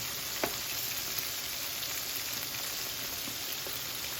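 Battered chicken pieces coated in potato starch and flour fry in hot oil with a steady, even sizzle and a few faint pops, close up and free of talk.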